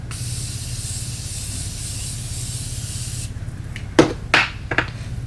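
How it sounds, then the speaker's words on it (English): Morphe Continuous Setting Mist sprayed onto a face as a long, continuous close hiss lasting about three seconds, followed by a few short, sharper bursts of mist. "I'm going to spray my face with the Morphe Continuous Setting Mist"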